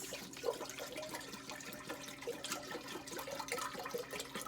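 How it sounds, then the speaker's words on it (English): Two liters of apple cider poured into a pot, a faint continuous liquid splashing and gurgling with small bubbly plinks, quiet and alone without talk. "I'm pouring it into a pot, all 2 liters."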